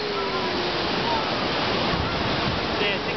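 Pacific Ocean surf washes in as a steady, broad roar of breaking waves, close and constant throughout, with faint wind on the microphone.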